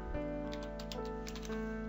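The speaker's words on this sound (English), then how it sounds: "we just type Diskpart" Several crisp, separate keystrokes on a computer keyboard as a short command is typed, close and fairly quiet against a steady background hum.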